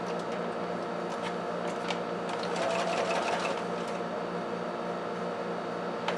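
Close, steady hum and rapid stitching patter of a sewing machine running a quarter-inch seam, continuous throughout with slight swells in intensity.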